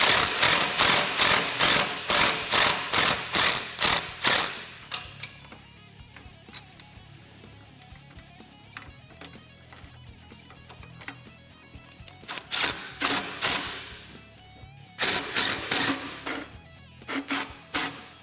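Ratcheting a nut tight on a frame stiffener on a Kawasaki Teryx KRX 1000 side-by-side, with loud, close bursts of rapid ratchet clicks in rhythmic strokes, pausing for a few seconds in the middle before resuming.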